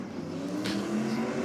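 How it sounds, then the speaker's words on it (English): A race car engine held at wide open throttle during a drag car show, a steady loud droning roar with a brief rise in pitch, heard from a distance. "Plenty of wide open throttle happening there."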